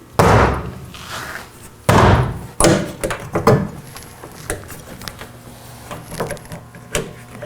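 A Molle panel is hung on the rear door of an FJ Cruiser, giving a few loud, close knocks and thumps, with quieter rattles and taps between them.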